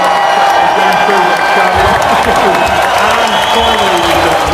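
Loud, steady applause with cheering and whoops from a school assembly crowd, continuous and close throughout.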